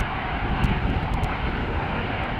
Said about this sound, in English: this SkyTeam liveried 737 is going to come this way, and it's a 737-900 outbound to Glasgow